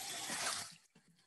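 Water runs from a tap over a paper towel being wetted in a kitchen, a brief close splashing rush that fades into a few soft drips.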